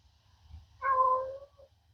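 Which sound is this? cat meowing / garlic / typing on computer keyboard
cat meowing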